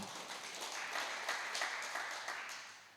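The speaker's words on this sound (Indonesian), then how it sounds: "Kasih tepuk tangan bagi Tuhan." A congregation claps during a Sunday worship service at a GBI church, a soft, continuous patter of many hands that sounds somewhat distant and gradually tapers off.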